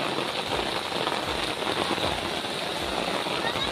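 Heavy rain from the season's first downpour falls steadily in a village, a dense, even hiss close to the microphone with no clear pauses.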